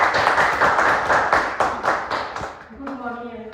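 A meeting audience gives a short round of clapping to welcome the general evaluator at a Toastmasters session. The claps are quick and close, and a voice begins speaking as they die away.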